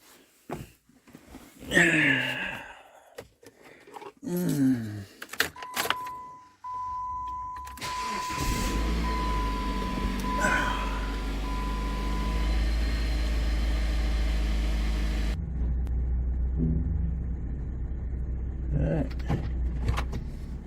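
A 2008 Jeep Compass cranks with a short starter whir, catches and settles into a steady, fairly loud idle, preceded by clunks and a whining electric motor, with brief talking at the start.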